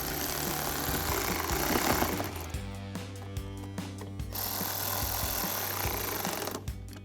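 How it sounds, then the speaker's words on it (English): A ratchet with a 7mm socket tightening headlight bolts on a 2018-2020 Ford F-150 during an LED headlight install, a series of quick metallic clicks in short bursts over a constant low hum, close and without talk. "take a 7mm socket to tighten them down"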